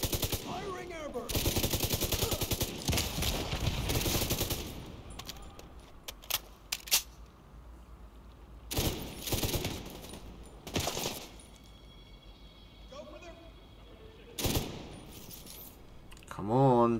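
Bursts of airburst weapon gunfire in The Division 2: loud rapid volleys in clusters, with sharp single cracks and pauses between, plus metallic clinks.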